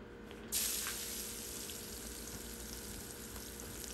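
Onion and garlic frying in a pan; a steady, soft sizzle that starts with a brief hissing burst, then settles into an even background crackle with no voices.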